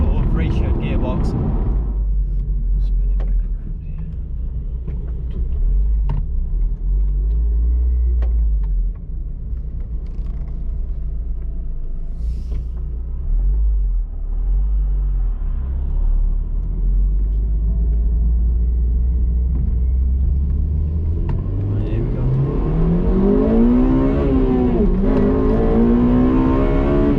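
Honda Civic Type R FD2 with a K20A engine and six-speed gearbox: a low, steady engine rumble under talking, then revs climb sharply and loudly in the final seconds as the car accelerates.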